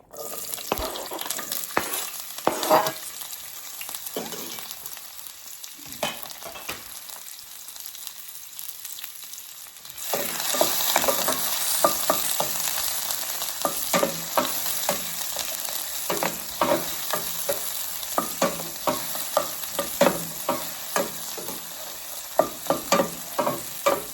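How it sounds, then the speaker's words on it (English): Scotch bonnet pepper and vegetables hit a hot skillet for escovitch fish, a loud sizzle that builds midway, with frequent scraping stirs and clicks of a utensil over the steady frying hiss. "And I'm just going to go ahead and add all of this to my skillet."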